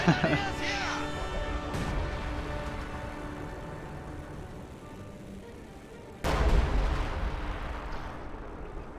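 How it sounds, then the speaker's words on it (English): LEFH howitzer artillery in a video game fires with a heavy, booming blast about two-thirds through, rising over a steady rumble of battle noise while a voice talks. "LEFH is firing."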